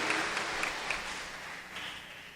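Church congregation applauding and cheering in worship, a dense wash of clapping with a few bright shouts, moderately loud and fading slightly toward the end.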